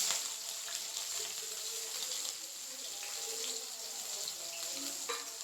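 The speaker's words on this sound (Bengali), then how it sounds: "এটাকে একটু ভালো করে ভেজে নেব। গ্যাসের ফ্লেমটা হাই রেখেছি, হাই রেখে ভেজে নিচ্ছি।" Green chillies and onion with salt frying in a pan over a high gas flame, a faint, continuous hiss and crackle that runs unbroken throughout, with no voices over it.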